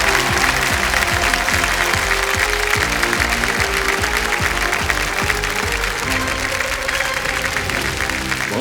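A television quiz show studio audience bursts into loud, sustained applause for a contestant, dense clapping filling the room without a pause.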